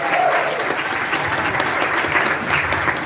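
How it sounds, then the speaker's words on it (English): A sponsor-thanks round of applause at a content creators' meetup in Accra, Ghana: dense, steady clapping from a crowd, loud and close, holding evenly throughout. "I want to say a round of applause for Accra."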